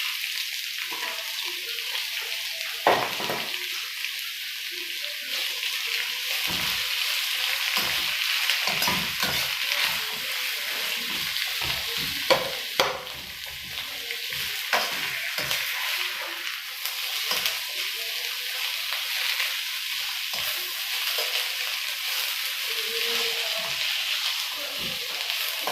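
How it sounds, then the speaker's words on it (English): Onions fry in oil in a pan for Lyonnaise potatoes, a steady close hiss of sizzling that runs throughout, broken by frequent scraping stirs and occasional soft knocks of the utensil. "Then we add in our onions."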